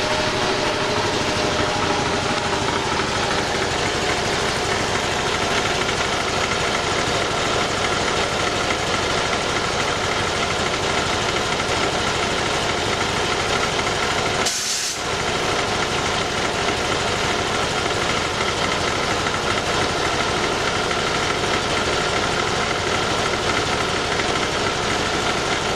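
Old, hard-worked electric motor driving a dairy farm vacuum pump, a loud steady hum and drone running continuously nearby with a brief dip midway, no talk.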